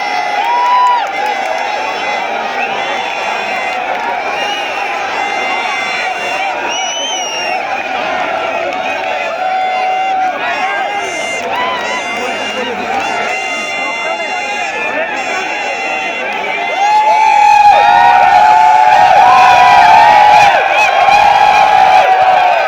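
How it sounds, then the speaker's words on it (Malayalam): A crowd at a tug-of-war competition in Jeddah, Saudi Arabia, cheers, shouts and claps continuously, growing louder toward the end, with voices mixed through the noise. "ഇരു ടീമുകളും നല്ല കയ്യടികൾ നൽകി മാത്രം മത്സരങ്ങൾ സ്വീകരിക്കുക"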